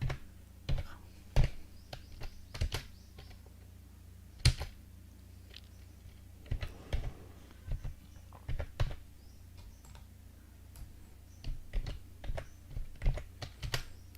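Python code being typed on a computer keyboard: irregular bursts of crisp key clicks with brief pauses between runs, close and clear, no voices over it.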